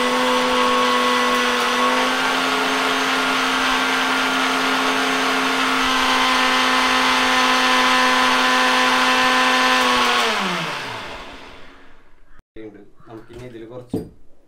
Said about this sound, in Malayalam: നമുക്ക് നല്ലോണം മിക്സിയിലിട്ടിട്ട് അടിക്കാം